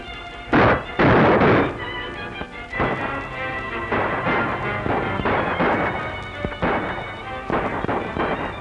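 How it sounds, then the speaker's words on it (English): Loud, sharp gunshot bursts at the start, then a steady run of rapid, echoing shots continuing throughout. "Certainly waste a lot of good gunfire."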